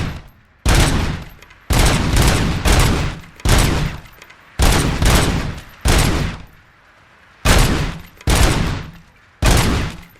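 Loud, close bursts of rapid gunfire in the Robocop video game come in repeated volleys, each lasting about half a second to a second, separated by brief pauses.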